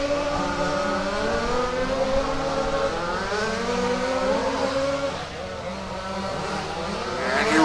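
Race cars roaring down the back straight at Warm Springs Raceway in a rally main event, overlapping engine drones rising and falling in pitch as several cars run close together, with a commentator talking over them.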